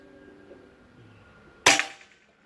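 A Bocap Pajero Gen 5 full-CNC PCP air rifle fires a single sharp, loud shot close by, a sudden crack with a short decaying tail after a quiet lead-in.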